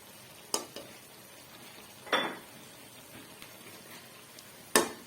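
A spoon stirs chicken yakhni pulao in a cooking pot, with three distinct scraping strokes spaced apart over a faint, steady sizzle, with no talking.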